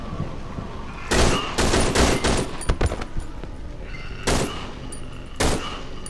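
Bursts of gunfire ring out in the horror game Cry of Fear, several sharp loud volleys in quick clusters separated by brief quieter gaps, with no talk.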